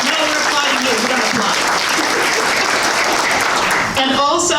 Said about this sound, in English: So, no, we're applauding you